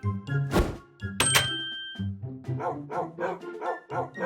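A dog barks in a series of loud, sharp barks and yips at irregular intervals, mixed with tonal dings and thunks, with no talking over it.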